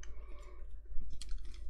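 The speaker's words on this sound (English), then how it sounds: "I can kind of keep that straight as I cut with my scissors" Scissors snipping through paper during mini album and box crafting, a few quick crisp cuts close up, brightest near the end, with no one speaking.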